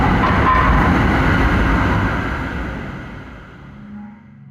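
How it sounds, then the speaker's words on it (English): A train rolls loudly into a station, its broadband rumble and rattle fading steadily as it slows, leaving a quieter low hum at the end. "Looks like my train is here"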